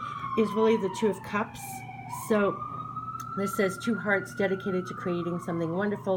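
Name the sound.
emergency vehicle sirens in the background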